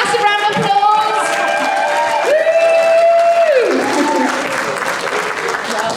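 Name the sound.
audience applause welcoming a speaker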